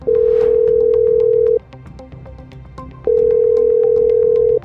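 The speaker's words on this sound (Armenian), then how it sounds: "Զանգերը անպատասխան մնացին։" A telephone ringback tone from an unanswered call to a government ministry press office, heard as two long, steady, loud tones separated by a pause of about a second and a half, with nothing else over them.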